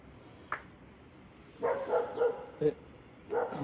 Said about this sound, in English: one of my dogs just heard a neighbor dog bark and bark back